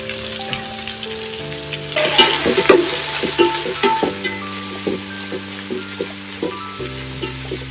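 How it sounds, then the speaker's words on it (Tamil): Onions sautéing in a pan for mutton paya biryani, a steady fizzing sizzle with clusters of stirring taps and scrapes, heard alongside a faint tonal hum in the background. "வெங்காயம் நல்லா ஒரு 5 மினிட்ஸ் நல்லா வதங்கணும்"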